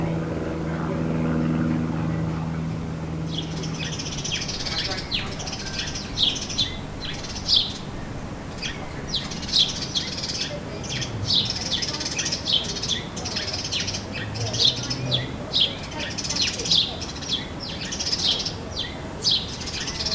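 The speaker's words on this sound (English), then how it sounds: "The magpie sounds may be bothering the dove." Repeated high, scratchy bird calls sound in bursts over steady background hum, with a low rumble early on and quieter chirps scattered throughout.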